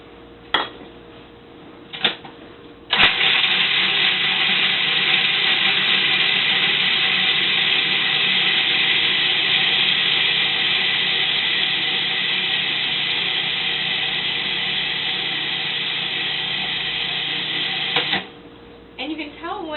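A food processor grinds nuts for a raw cheesecake crust, a steady loud whirring and rattling that runs for about fifteen seconds before stopping, with talk before and after.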